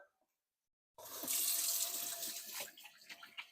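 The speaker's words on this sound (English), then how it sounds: "I'm gonna wash my hands real quick." Water gushes from a kitchen tap into a sink for handwashing, starting abruptly after a second of near silence and continuing as a steady close splash that grows choppier at the end.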